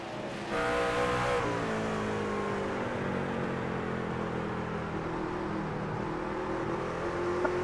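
Pack of racing trucks in a sim racing game accelerates together, steady loud engine drone with several rising whines layered and shifting pitch, continuous and close, without talk.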